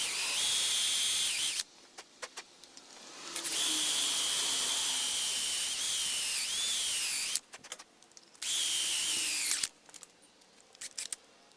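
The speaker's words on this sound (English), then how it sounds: "Dull drill." A dull drill bit whines at high pitch while boring into an engine part for a 1933 Austin 10, running in three long bursts separated by pauses and short clicks and handling noises, close and steady.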